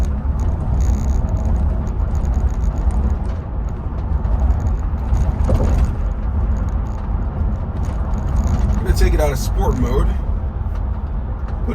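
A Mercedes-Benz G-Class AMG accelerates in sport mode with traction control on, giving a steady, loud, continuous engine and road roar from inside the cabin with no let-up.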